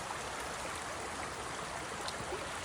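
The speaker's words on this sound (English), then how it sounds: "on the other side of that is a weir which directs the water downward" Stream water pouring over a weir near an old railroad bridge site in the remains of a lumber ghost town, a steady, dense rushing wash that holds unchanged and fairly close throughout.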